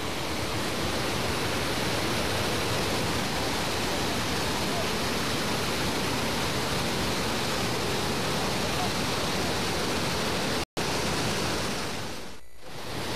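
A river flows in a steady, loud rush of broadband water noise, continuous and close, with a brief dropout near the end.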